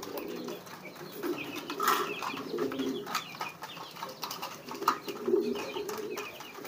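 A domestic pigeon nesting on eggs gives soft, repeated cooing, fairly faint and near, against a light background with no talk.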